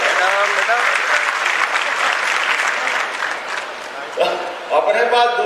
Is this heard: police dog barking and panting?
no